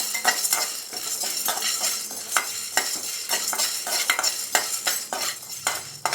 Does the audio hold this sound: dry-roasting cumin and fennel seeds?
yes